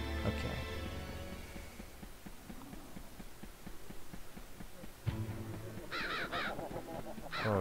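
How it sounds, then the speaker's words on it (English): Crows caw repeatedly in the video game MediEvil, in the Scarecrow Fields level. The harsh calls sit over a low throbbing game soundtrack, with a sharp hit midway and a few short high chirps near the end. "Oh, so these are all crows here."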